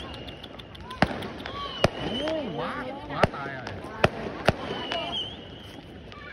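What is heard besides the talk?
fireworks exploding over Ho Chi Minh City, New Year 2025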